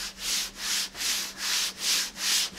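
A gloved hand sweeps back and forth over rough, contaminated car paint, making six rhythmic, gritty, sandpaper-like rasps close to the listener, with brief pauses between strokes.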